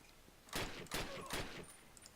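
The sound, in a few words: gunfire in a video game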